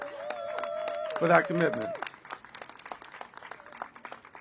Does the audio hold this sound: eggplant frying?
no